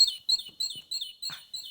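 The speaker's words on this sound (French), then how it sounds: "une petite mésange," A small tit, a songbird, chirps in a series of short, high, thin calls repeated at a steady pace, fairly close and clear against an otherwise quiet background.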